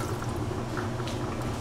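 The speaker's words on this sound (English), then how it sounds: "Put some water in." Water pours steadily into a pot, a short continuous splashing gurgle, close by and moderately loud.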